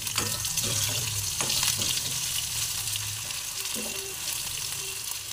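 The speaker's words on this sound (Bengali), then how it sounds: "আলুটাও আমি ভেজে নিচ্ছি।" Potatoes frying in hot oil for a jackfruit curry, a steady loud sizzle heard up close throughout, with occasional clinks and stirring sounds.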